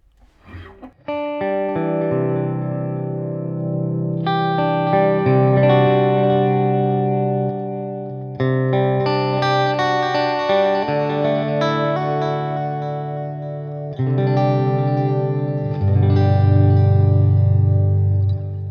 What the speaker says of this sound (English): we've got a clean with a delay and a bit of reverb